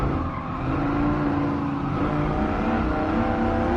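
A powerful V10 Dodge Viper engine in the video game Gran Turismo 7 roars steadily at high revs, loud and close, with a faint hint of tire squeal and no talking.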